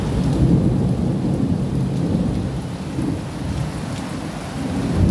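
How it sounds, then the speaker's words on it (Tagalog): Steady heavy rain pours in Baguio with a continuous rumble of thunder underneath, a dense, unbroken wash of noise with no voices. "We're here in Baguio and it's raining."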